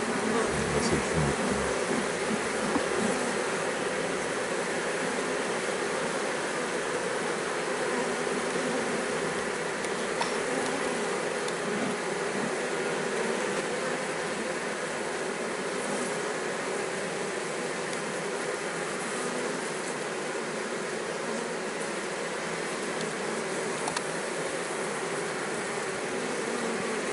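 Honeybees buzz in a dense, steady swarm throughout a hive transfer, the drone continuous and close with a faint voice or two underneath.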